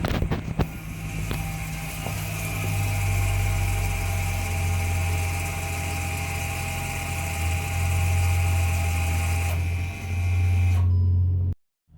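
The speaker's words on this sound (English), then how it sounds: "it rewinded those electric motors all the way back" Electric parking brake motors on a VW car rewind steadily for about eleven seconds, a continuous mechanical whir and hum that holds one pitch, then cuts off abruptly into quiet.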